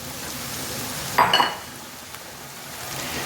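Egg noodles and masala sizzle in a frying pan, with a soft steady frying hiss and one brief scraping burst of stirring near the middle.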